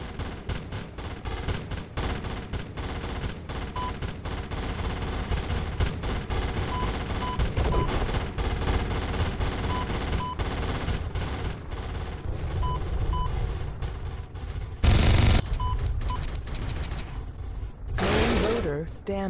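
Sustained gunfire and mechanical clatter in the Comanche 4 helicopter combat video game, a continuous loud barrage with occasional heavier bursts and radio voices speaking over it.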